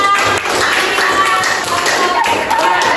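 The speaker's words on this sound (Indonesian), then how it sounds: "Oke, tepuk tangan." A classroom group applauds after a student presentation, with dense, steady clapping from many hands filling the whole stretch at close range.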